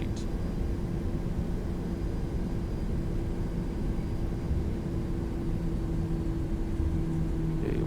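A PMDG 737-800 airliner in Microsoft Flight Simulator 2020 spools up and accelerates for takeoff, giving a steady, continuous jet engine roar with broadband rumble and a sustained tonal hum that holds evenly throughout, with no voices.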